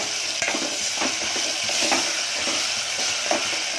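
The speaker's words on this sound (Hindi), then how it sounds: "झींगा को फ्राई करूंगी प्याज में, फिर मसाले डालूंगी।" Prawns and onion frying with masala in a pan for a Konkani pumpkin curry, a continuous close sizzle with scattered scraping stir strokes and light clinks throughout, no voices.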